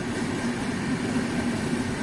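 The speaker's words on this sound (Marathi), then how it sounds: "बघा रेल्वे गाडी जात आहे" A railway train rolling past on the track near Jalgaon, a steady, moderately distant rumble and rattle of wagons without distinct breaks.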